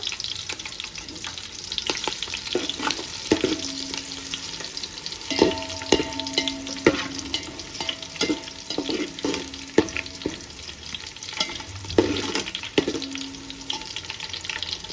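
Green chillies and curry leaves fry in hot oil for a chicken dum biryani, giving a steady close sizzle broken by irregular clinks and scrapes of stirring throughout.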